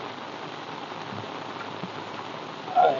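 Steady rain falls on a village in an even, continuous patter. A brief louder splash or rustle comes right at the end.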